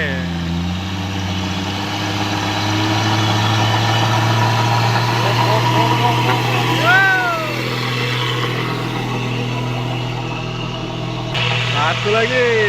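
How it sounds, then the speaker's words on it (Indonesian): A Hino Ranger truck loaded with crude palm oil roars on a road through oil palm plantations. A deep, steady engine drone holds loud and close throughout, with faint higher sounds drifting over it. "Satu lagi, Hino Ranger lagi, muatan CPO lagi ya bosku."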